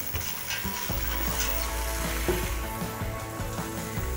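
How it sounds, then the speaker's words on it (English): Anchovies or capers frying in a pan with garlic breadcrumbs and lemon peel, a steady soft sizzle with light scraping and clinks from stirring. "Next, anchovies or the capers, whichever you like. Just give that a mix around."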